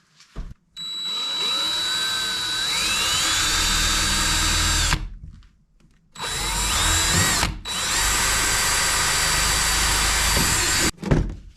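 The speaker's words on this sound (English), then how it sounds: "Let's drill a hole." A power drill bores a hole in a Jeep XJ Cherokee, running in two long, loud whining bursts whose pitch shifts as the bit bites, with short pauses between and a clunk at the end.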